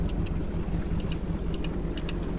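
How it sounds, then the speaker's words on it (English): Chaparral 284 Sunesta 2014 boat engine idling with the captain's call exhaust open, a steady low rumble with faint higher ticks, continuous and fairly close, with wind noise over the water. "So choose your captain's call exhaust at idle, like this."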